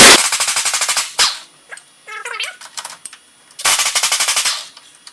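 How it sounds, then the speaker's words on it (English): Pneumatic air gun rattling a nut off a bolt on the front axle of a 2008 Dodge Caravan, two loud close bursts of rapid hammering impacts separated by quieter clinks and handling noise. "I'm going to use an air gun because I can"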